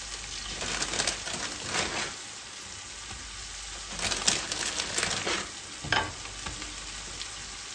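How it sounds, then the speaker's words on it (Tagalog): Pieces of leftover lechon kawali go into a pan with sugar, giving a loud close sizzle with clattering bursts as the meat is dropped in and turned, and no speech. "Lagay na po natin dahan-dahan ang ating lechon. Lechon kawali po ilalagay ko."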